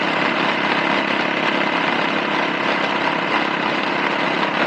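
Suzuki S40 Boulevard motorcycle engine running steadily at highway speed around 65 mph and 4,100 RPM, a constant loud broadband drone with wind rush that holds evenly throughout.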